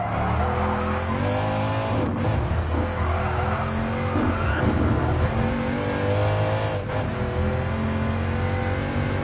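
In the Gran Turismo Sport VR racing game, a car does a burnout with loud, sustained engine revving and screeching tires, rising and falling in pitch over about nine seconds with no talk.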